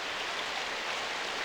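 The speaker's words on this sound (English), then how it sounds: "The rain had suddenly strengthened again, and I felt cold." Rain falls in the visual novel game Symphonic Rain, a steady, soft hiss of dense drops with an even wash and no pauses, heard alone and fairly quiet.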